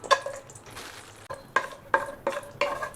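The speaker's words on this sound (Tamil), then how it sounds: "ஏலக்காவை வறுக்க போகிற நெய்யில் போட்டு முந்திரி பருப்பு" Cardamom and cashews fry in hot ghee for a Muslim wedding-style biryani, sizzling steadily while a spoon stirs them, giving a series of sharp clinks and scrapes against the pan about every half second.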